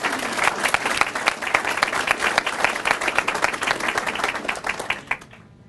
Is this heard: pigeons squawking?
no